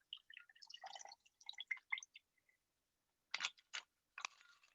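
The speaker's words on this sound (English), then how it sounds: "You can pop off the top and pour out the first part of your cocktail." Liquid from a frost-covered cocktail shaker with its top popped off, poured in a run of soft close dribbles and drips, then a few louder splashes near the end, with no voices.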